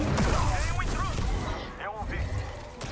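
Enemy blaster fire in Star Wars Jedi: Survivor, a quick run of sharp zapping shots over rumbling game combat and music, with someone talking over parts of it.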